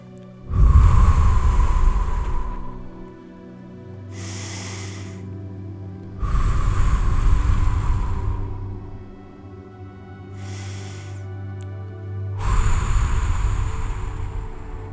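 Three slow, deep breaths during a guided meditation, each a loud, close inhale followed by a softer exhale, evenly spaced over a faint sustained musical drone.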